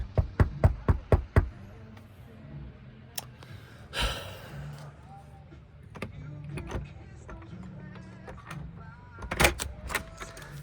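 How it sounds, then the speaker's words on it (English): Knocking on a hotel room door at a resort, with a run of about five sharp, close raps at the start, followed by quieter room sounds, a sigh or breath and a few scattered thumps and clicks. "Let's knock."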